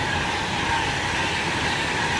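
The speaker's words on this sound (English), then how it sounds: "Now passing straight through platform 4 at Milton Keynes Central is" A Virgin Class 390 Pendolino train passes straight through platform 4 at Milton Keynes Central station with a loud, continuous rushing roar and steady rail rumble, close by, with no pauses.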